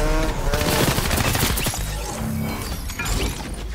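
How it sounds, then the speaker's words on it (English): Rapid gunfire bursts from a Fortnite squads match crackle loudly and densely, with overlapping shots and impact cracks that ease off slightly toward the end. "Oh, bro's getting shot at."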